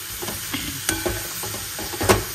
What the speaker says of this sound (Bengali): গুঁড়ো দুধ দিয়ে দিয়েছি, তা দিয়ে ভালো করে নাড়িয়ে চাড়িয়ে